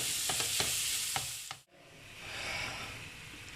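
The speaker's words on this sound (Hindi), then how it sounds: "अब मैं इसके ऊपर ये कीमा डाल देती हूँ जो मैंने ग्राइंड किया है। तो इसको थोड़ा सा कुक करेंगे हम।" Ground chicken mince frying in butter in a pan sizzles with a steady close hiss, a few utensil taps early on, then a brief dip before the crackle swells again; no one speaks.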